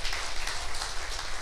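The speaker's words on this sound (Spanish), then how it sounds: "Dale un aplauso al Señor, no se quede con la gana." A church congregation claps for the Lord during a sermon, steady, dense applause filling the room at a consistent volume, with no voices heard.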